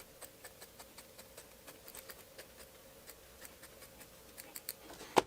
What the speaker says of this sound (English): Get our applique scissors and get to cutting it out.